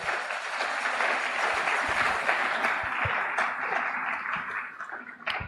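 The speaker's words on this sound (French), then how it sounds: "Tobeteli Yesu maboko" A church congregation applauds steadily throughout, a dense continuous wash of clapping that stays loud and even, dipping slightly near the end.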